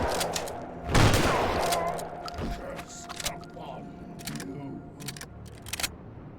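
A 12 gauge pump action shotgun fires in the video game Gloomwood, one loud close blast followed by clacking mechanical pump and handling sounds and scattered clicks.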